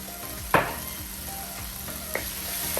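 Tomatoes cooking down in a pan with turmeric, for a Kerala-style beef and raw banana dish, give a steady low sizzle with one sharp scrape or clatter near the start and a fainter one later. No one speaks.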